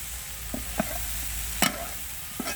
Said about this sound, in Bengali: ছোটো মাছ দিয়ে আলু দিয়ে চচ্চড়ি রান্না করতেছি